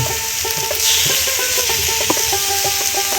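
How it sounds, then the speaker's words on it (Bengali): Chicken leg pieces go one by one into a pan over a clay stove fired with leaves, giving a steady close sizzle and frying crackle with scattered stirring and scraping clatter throughout. "এই যে দেখুন, সেই চিকেনের লেগ পিসগুলো চুলের মধ্যে দিয়ে দেওয়া হলো।"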